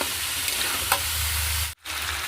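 Chopped potatoes and spices sizzle steadily as they are stirred and sautéed in a pan, a close, even frying hiss with a brief scrape and a momentary gap near the end.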